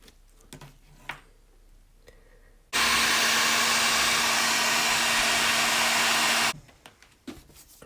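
A heat gun roars steadily for about four seconds, shrinking heat shrink tubing onto the starter cable of a custom BMW R80 motorcycle. The loud, even blowing switches on and off abruptly between quiet handling noises.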